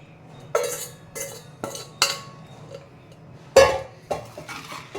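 Drumstick pieces stirred gently in a pan, heard as about seven sharp clinks and scrapes of a metal spoon against the pan, spaced irregularly with quiet gaps between them, close and fairly loud.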